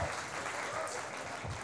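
Audience at a career talk breaks into a brief burst of applause, a dense wash of clapping that is faint and distant, lasting only a moment.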